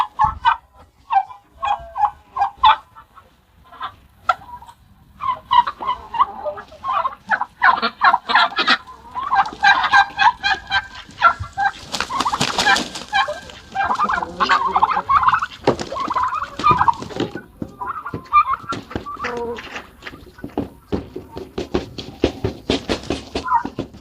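A flock of turkeys gobbles in a homestead yard, loud and close, with repeated overlapping bursts of gobbling calls that build into a dense chorus through the middle and keep going steadily to the end.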